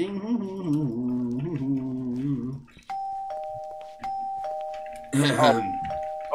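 A doorbell in Minecraft rings repeatedly, bright ding tones struck again and again in quick succession after a stretch of talking, with a voice briefly over the last chimes.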